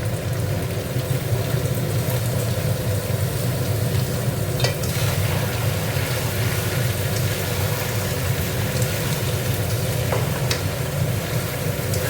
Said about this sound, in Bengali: দেখো, এবার সবজিটা দিয়ে দিচ্ছি সব।